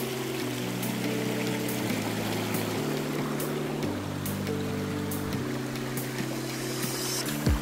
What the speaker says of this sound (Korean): 물소리 끝내주네요